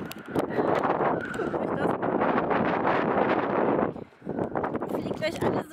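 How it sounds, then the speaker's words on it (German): Strong outdoor gusts batter the microphone with loud, continuous roaring buffets that briefly drop out near the end and then return. "hier stürmt das richtig"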